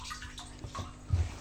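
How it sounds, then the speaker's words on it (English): A steady thick stream of water pours into a tank fed by a float-switch system, with ozone bubbles rising. It is a continuous moderate gushing wash that carries on throughout, with no speech. "in there you'll see the water coming in, and you can see it's quite a steady thick stream of water coming in"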